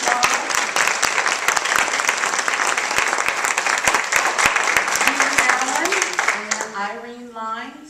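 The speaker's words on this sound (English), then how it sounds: "Let's give them a round of applause." Audience at a women's leadership conference opening ceremony breaks into sustained, dense applause for several seconds, then the clapping fades as a voice starts speaking.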